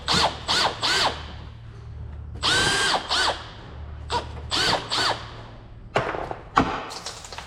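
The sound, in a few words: impact driver with socket removing fuel pump nuts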